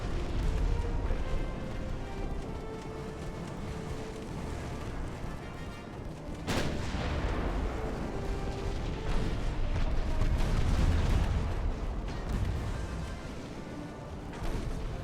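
Naval gunfire from 1890-era warships in Ultimate Admiral: Dreadnoughts, a continuous rumble of distant booming salvos with one sharp crack, heavy and dense throughout.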